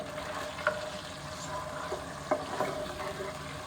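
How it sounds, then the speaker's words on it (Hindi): Salted chicken pieces fry in a pan for a stew, a soft continuous sizzle with a few light scrapes and clinks of stirring, close by and without speech. "1 से 2 मिनट तक अच्छी तरह हम इसको फ्राई कर लेंगे।"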